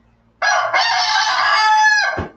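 A rooster crows in one loud, close, sustained call lasting nearly two seconds, with a brief break near the start and a falling tail at the end, and no voices over it.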